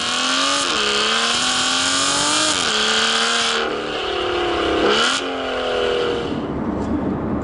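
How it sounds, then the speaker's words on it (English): A naturally aspirated V12 in an Aston Martin Vanquish S roars loudly through a tunnel, climbing through revs in rising sweeps with brief dips at the gear changes, strongly echoing and close, with no talk. "driving a naturally aspirated V12 through a tunnel"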